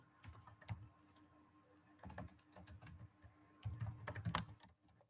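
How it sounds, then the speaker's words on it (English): Bursts of keystrokes on a computer keyboard, typing text in short clustered runs separated by pauses, fairly close and moderately loud with no talking. "Just like if I type over here Pakistan school."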